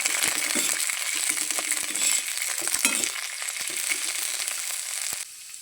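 Green chillies frying in a pan, a continuous close sizzle with scattered scraping and clicking as they are stirred, ending abruptly.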